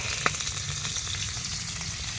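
Chopped garlic hits overheated oil in a pan, giving a steady close sizzle and crackle with a sharp spatter near the start, alone without talk.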